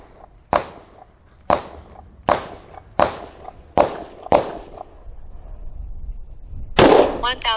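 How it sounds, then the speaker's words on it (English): Seven sharp revolver shots from a Smith & Wesson 686 .357 Magnum with an unfluted cylinder and 180-grain reloads, fired at an outdoor range with irregular spacing and short echoing decays, the last followed by brief noise. "unfluted cylinder Smith & Wesson 686 that we're going to be firing across the chronograph"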